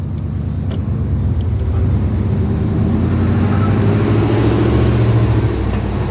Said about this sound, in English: It's always the trucks with the quarter panels rusted out